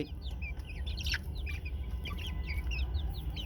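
Rain-soaked chickens cluck and chirp softly in a scattered, ongoing series of short calls over a low background rumble, fairly faint and without talk.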